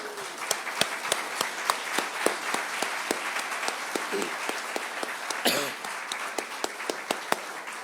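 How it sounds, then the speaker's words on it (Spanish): A church congregation applauding during a Spanish-language Christmas service: sharp, well-spaced hand claps ring out at a fairly steady rhythm over a low room murmur, with a slightly louder burst midway. "Denle un aplauso al Señor por eso."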